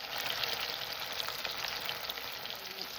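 Taro pieces hit hot oil in a wok with a loud, dense, continuous sizzle that crackles steadily throughout, close and without voices.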